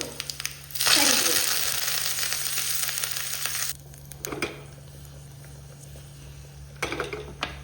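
Loud sizzling as mustard seeds, asafoetida and dried chillies hit hot oil, a burst of crackling frying that settles into a steady hiss, with brief stirring clatter and another flare later.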